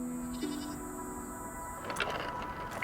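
Domesticated goats and sheep bleating, with a few short separate calls early, midway and at the end over a quiet, steady background, with no talk.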